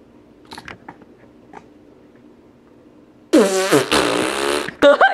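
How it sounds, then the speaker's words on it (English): A loud, close fart bursts out after a quiet stretch of faint clicks, a buzzy drawn-out blast followed by a couple of shorter sputters. "You farted."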